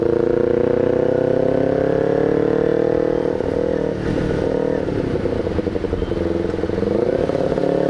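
A Kawasaki Ninja 250R fitted with an SC Project exhaust runs near at low, even revs, its deep burbling drone rising gently, then turning rougher and choppier as the throttle is worked.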